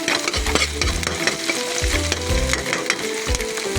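Onions sizzle loudly in a hot pan as a utensil stirs and scrapes them in repeated strokes, up close with no talking.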